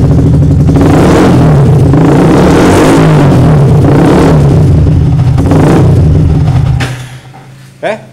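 A Yamaha R15 motorcycle with an overvoltage charging fault revs loudly up close in repeated surges, then the engine cuts out and falls quiet, followed by a brief clunk.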